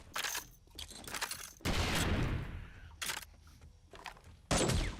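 Rapid bursts of gunfire in the video game 7 Days to Die, loud and broadband, arriving in several separate volleys with short gaps between them and no talk.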